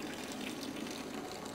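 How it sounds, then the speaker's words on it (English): Cooled beer wort splashes in a continuous, soft stream as it is poured into a plastic bucket, a steady rushing liquid sound heard at low level without talk. "Doug pouring the cooled wort into the bucket"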